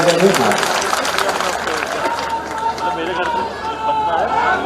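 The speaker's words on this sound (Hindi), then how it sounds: "ताली बजा दो जो अभी नए हमारे मित्र आए" Crowd clapping at an outdoor BJP election rally in a market square in Sanwer, a dense, steady wash of hands from many people with a busy, noisy background murmur throughout.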